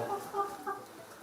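A white chicken about to be sacrificed in a traditional Samo rite clucks three times in quick, close, moderately loud bursts.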